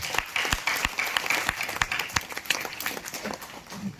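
An audience at a Hindi comic poetry gathering breaks into steady applause, many hands clapping together at a moderate distance, with a few sharper claps standing out.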